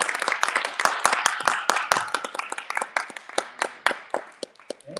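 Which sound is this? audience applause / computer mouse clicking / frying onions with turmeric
audience applause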